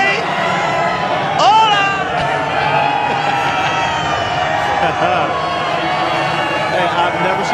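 A baseball stadium crowd cheers and whoops for Pedro Martinez in a continuous loud roar, with people shouting and talking nearby.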